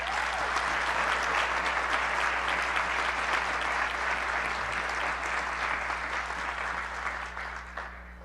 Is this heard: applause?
yes